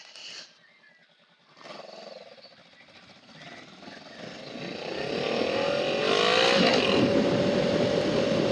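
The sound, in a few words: 2021 Honda Rebel 500 motorcycle engine while riding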